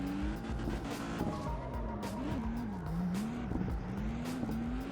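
A Nissan 400Z drifts in the CarX Street racing game, its engine holding a steady, loud note that rises and dips continuously. Faint tire squeal runs underneath the whole time, with no talking.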